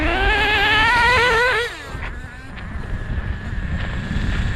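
A 1/16 Schumacher Rascal nitro RC car running on dirt, its small engine whining high and rising and falling with throttle, then dropping to a low idle under windy outdoor rumble.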